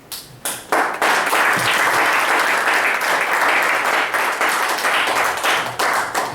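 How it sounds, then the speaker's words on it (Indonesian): A large seminar audience breaks into sustained, dense applause, loud and close, swelling quickly and holding steady before tapering slightly. "Yuk, sekali lagi kasih tepuk tangan yuk."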